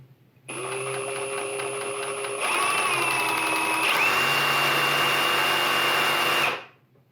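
A Ryobi ONE+ HP 18V brushless cordless reciprocating saw whirs steadily for about six seconds, its motor pitch stepping up partway through, then spins down to a stop.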